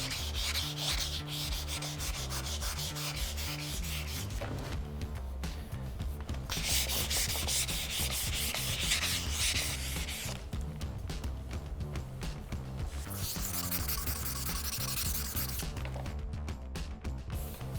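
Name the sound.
wet sanding body filler putty on Ford F-150 Raptor fender flare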